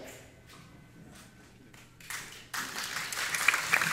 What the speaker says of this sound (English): Thank you, Annie, for a little applause there